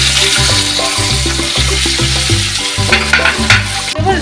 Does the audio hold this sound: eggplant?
yes